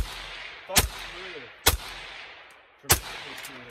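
Three loud, sharp gunshots from a Faxon 11.5-inch rifle fired outdoors, spaced about a second apart, each a hard crack with a brief trailing echo, with no talking between them.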